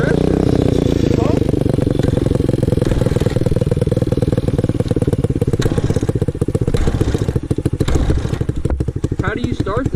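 Pit bike engine being kicked over and sputtering as it struggles to start, a loud continuous clattering, thumping engine noise close by for the whole stretch, with talk over it.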